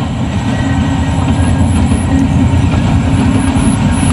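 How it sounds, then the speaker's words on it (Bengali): Train moving slowly, heard from a carriage roof, with a loud continuous low rumble and rhythmic wheel clatter close by and no talking. "ধীর গতিতে ট্রেন চলছে।"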